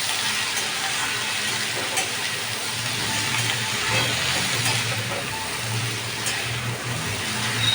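Food fries in a pan with a steady, moderate sizzling hiss and a low background rumble, without talk.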